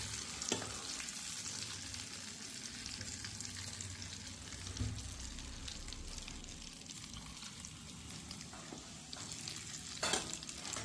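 Hot oil poured over a pickle masala hisses quietly and steadily while the mix is stirred, with a few faint knocks of the spoon, no voices.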